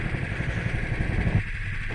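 A racing kart engine buzzes loudly and continuously on a track during a race, a close, rough mid-pitched drone with slight rises and dips, with no talking over it.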